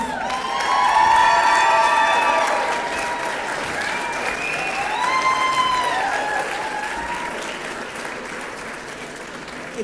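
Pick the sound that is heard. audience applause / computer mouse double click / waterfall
audience applause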